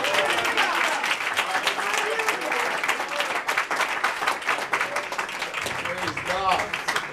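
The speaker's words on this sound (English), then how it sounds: "Let's give God a round of applause for what he's doing." A church congregation claps steadily and warmly in praise, sustained applause with voices calling out and talking over it throughout.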